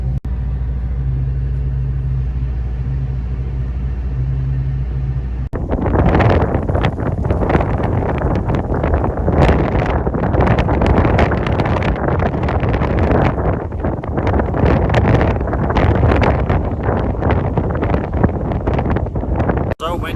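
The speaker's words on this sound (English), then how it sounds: "So windy out right now." Strong wind buffets the microphone outdoors during a soybean harvest, starting with a low engine drone, then turning into loud, continuous gusty roaring that swamps everything for most of the clip.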